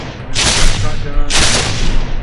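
Two loud shotgun blasts in an Unreal Engine game, each a sharp booming report with a rattling tail, about a second apart, close and dominant.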